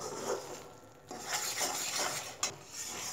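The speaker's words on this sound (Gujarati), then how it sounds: "વારે વારે હલાવતા જવું પડશે." A spoon scrapes and stirs flour roasting in a pan for sukhdi, giving close, rhythmic scraping strokes with a soft sizzle and an occasional metallic clink.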